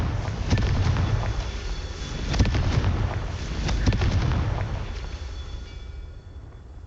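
The Confringo fire spell bursts in Hogwarts Legacy as loud, rumbling blasts with sharp cracks over a dense, continuous roar of game effects, staying heavy throughout with no talk.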